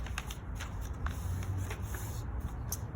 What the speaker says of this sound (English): I'm gonna fold it.